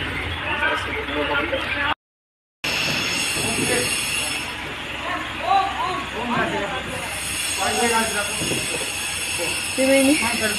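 A train rumbles along steadily with rail noise throughout, while people talk and chatter over it.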